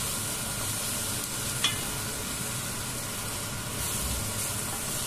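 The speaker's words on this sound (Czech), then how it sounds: "Trošku osmažíme." Garlic fries in a pot for garlic soup, giving a steady, even sizzle with a brief stir-like clink partway through.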